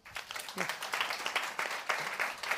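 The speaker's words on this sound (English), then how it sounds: "Welcome to the stage, Lesley Gregory. Round of applause." Applause from a business event audience welcoming a speaker to the stage, dense clapping with slightly uneven swells, moderately distant and fairly quiet, with voices mixed in.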